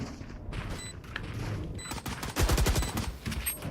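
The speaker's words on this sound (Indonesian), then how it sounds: "Gue pakai pistol sepanjang jalan." Pistol gunfire in the video game Valorant: a rapid burst of close, sharp shots in the middle, with scattered quieter game sounds around it.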